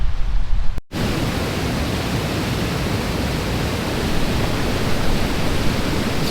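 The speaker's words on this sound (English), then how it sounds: "It's a beautiful little waterfall up here." A small mountain waterfall roars close by in a steady, dense rush of falling water, loud and continuous after a brief break near the start.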